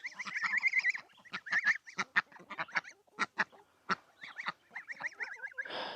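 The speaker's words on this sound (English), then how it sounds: "some little runner ducks hiding in the shade of a raspberry bush" Runner ducks sheltering in the shade of a raspberry bush on a farm pasture give a busy run of loud, nasal honks and quacks, close and overlapping in irregular bursts.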